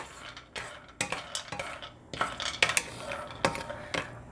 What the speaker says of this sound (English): And now I'm going to dry roast my almond.